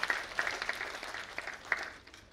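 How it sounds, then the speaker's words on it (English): An audience at a women's awards conference gives a short burst of scattered clapping, light and somewhat distant, fading out after about two seconds. "give them a clap, please."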